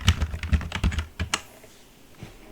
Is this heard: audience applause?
no